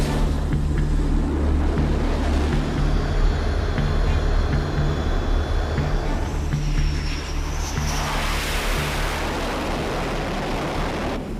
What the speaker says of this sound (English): the pilot must accelerate full throttle and propel for a go-around and